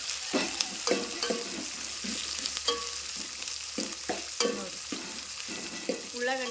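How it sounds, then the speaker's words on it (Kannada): Sliced onions with thick green chillies and hot chillies fry in oil in a pan for kushka rice, a steady close sizzle broken by repeated scraping strokes of a spatula stirring the mix. "ಉದ್ದು ಕಟ್ ಮಾಡಿ ದಪ್ಪ ಮೆಣಸಿನ್ಕಾಯಿ ಒಂದು ಸ್ವಲ್ಪ ಖಾರದ ಮೆಣಸಿನ್ಕಾಯಿ ಇವು ಮೂರು ಹಾಕೋದು ಹಾಕೊಂಡ ಚೆನ್ನಾಗಿ ಫ್ರೈ ಮಾಡ್ಕೊಬೇಕು"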